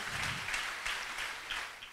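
A church congregation claps together at a church dedication service in Farabana. The steady applause fills the room for about two seconds with no talking.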